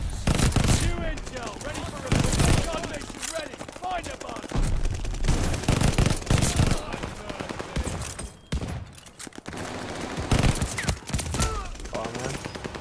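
The ITRA Burst rifle in a shooter video game firing in repeated rapid bursts, loud and close, with short gaps between volleys and a voice speaking in between.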